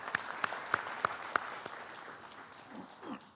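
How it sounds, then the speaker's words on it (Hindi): Audience applause welcoming India's Human Resource Development Minister Prakash Javadekar on stage at a Chunav Manch 2019 political event: a few sharp, separate claps ring out in an even rhythm, then fade into a faint patter. "एक बार जरा तालियां जारी रहें।"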